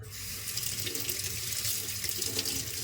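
Grapes being washed under a running kitchen tap, a steady close hiss of water splashing into a sink for a few seconds, with no talking.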